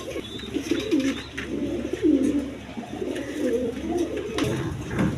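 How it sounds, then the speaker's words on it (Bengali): Farm pigeons kept in pairs with their chicks coo continuously in overlapping low, throaty rolls, close and moderately loud, with light rustling around them. "দেখেন জোড়া জোড়া বাচ্চা সহ কোয়ালিটি সম্পন্ন কবুতর"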